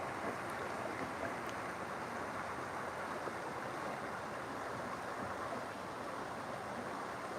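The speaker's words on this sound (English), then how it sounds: "That creek just runs like right along here." A woodland creek runs steadily at night, a constant, faint wash of flowing water with no break or voice over it.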